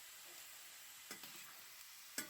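Shredded beef browns in olive oil in a pan with a soft, steady sizzle, punctuated by a few sharp scrapes of stirring, quiet and close.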